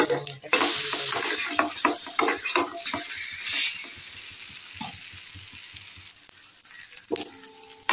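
A thick snack fries in white oil in a pan, sending up a loud, crackling sizzle with repeated utensil scrapes and clinks that fade to a softer hiss, then a final clatter.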